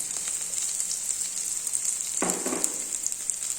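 Onions and green chilies sauté in a pan for a Tamil sangara fish curry, a steady close sizzle with a brief louder burst of frying partway through, with no talk.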